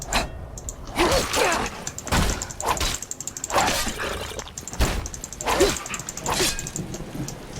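Dog barks and yips from a creature in the fantasy role-playing game Skyrim, several sharp bursts spread through the clip, close and fairly loud over game sound effects.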